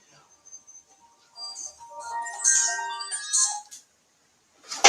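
Phone ringtone plays a bright, melodic run of electronic tones at moderate volume during a podcast recording, ending in a brief louder burst.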